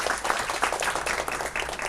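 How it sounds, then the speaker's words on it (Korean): Seminar audience applauds for a presenting team, a moderate, fairly distant patter of clapping from a seated crowd lasting a couple of seconds, with faint background sound and no speech over it. "박수 부탁드립니다"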